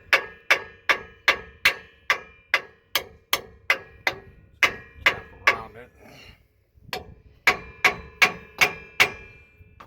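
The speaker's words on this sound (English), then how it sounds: "So take our hammer, tap" A hammer taps the rear differential cover of a 2009-2014 Ford F-150 to break its seal. The sharp metallic knocks come close and evenly spaced, over a dozen in steady rhythm, with a short pause where someone speaks.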